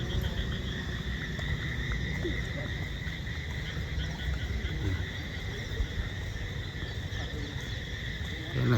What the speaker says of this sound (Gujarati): દેડકા બોલે ને